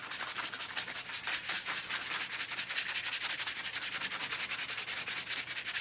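Steady, rapid back-and-forth rubbing of sandpaper on wood, roughing up the surface before painting a buffalo plaid pattern; close, continuous and even, with no talking.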